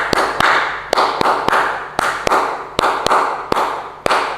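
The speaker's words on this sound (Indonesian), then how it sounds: "saya akan mengenalkan tentang tepuk HW." A Hizbul Wathan scout group performs the 'tepuk HW' clapping routine: crisp, sharp hand claps in a patterned rhythm with short groupings and brief pauses. The claps are fairly close and clear, with no talking.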